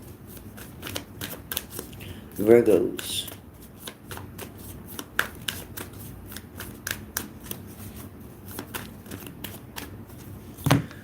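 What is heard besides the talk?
shuffling tarot cards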